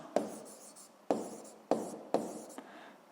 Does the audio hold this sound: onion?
no